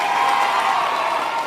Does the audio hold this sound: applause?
yes